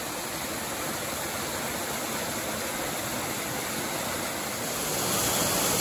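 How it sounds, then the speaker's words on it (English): Continuous broadband rush of waterfalls on the Appalachian Trail, a steady, close roar of falling water that swells slightly louder near the end, with no voices. "Looks like we're starting off with a lot of waterfalls this morning too."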